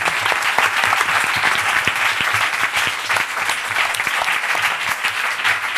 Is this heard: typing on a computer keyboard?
no